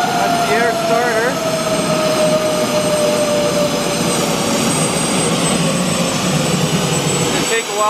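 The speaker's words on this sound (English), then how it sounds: "that's the start car winding up. And now Walter's gonna switch on the output air. That's the air starter." An air starter cart winds up a large jet engine with a loud, steady rushing whine and rising tones that stay close and continuous, while a person talks over it.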